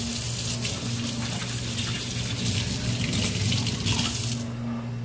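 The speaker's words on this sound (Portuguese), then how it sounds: "Aliás, de novo, vou lavar a mão." Hands are washed under a running kitchen tap, a steady close rush of water that pours without a break and then stops just before the end.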